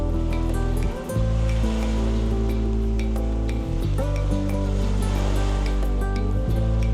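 Calm sea water at a beach on Thassos, a steady wash of gentle lapping and soft splashes, with a faint tonal hum underneath and no speech.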